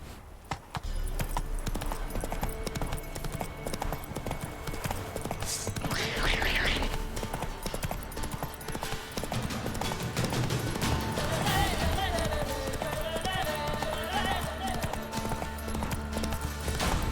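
Horse galloping in The Witcher 3: Wild Hunt video game, a steady drumming of hooves under game music and effects, with a brief neigh-like burst and a voice speaking intermittently.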